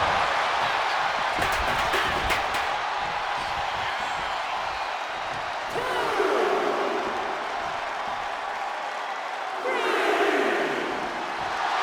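Crowd noise in the WWE 2K25 wrestling video game arena rolls on steadily as a continuous roar, swelling with louder cheering surges at a couple of points, while a commentator talks over it.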